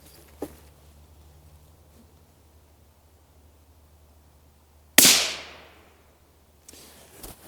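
A single sharp rifle shot from a Ruger Precision Rimfire in 17 HMR fired at 50 yards, a loud crack with a short decaying ring, following a faint earlier click in otherwise quiet surroundings.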